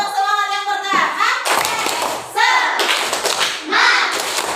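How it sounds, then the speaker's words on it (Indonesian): An Indonesian primary school class claps together in a rhythmic spirit-clap pattern, quick bursts of hand claps and thumps alternating with children's and a teacher's voices. "Tepuk semangat yang pertama."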